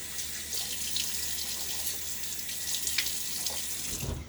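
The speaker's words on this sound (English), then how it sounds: "Throw some water on my face." At a sink, water from a running tap is splashed onto a face. The flow hisses quietly and steadily, with a low slosh at the end and no talking.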